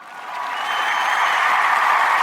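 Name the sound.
audience applause, big clap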